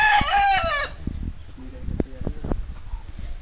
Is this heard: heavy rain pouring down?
no